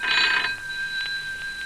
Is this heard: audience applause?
no